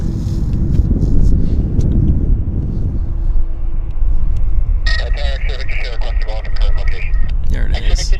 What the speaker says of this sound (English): Here's Salt Lake City. Embraer, baby Embraer.